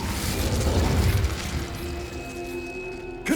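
A fire spell bursts out in Hogwarts Legacy as a deep, rumbling whoosh and boom, sustained and fairly loud, then trailing into a mechanical hum before a short sharp flare at the end.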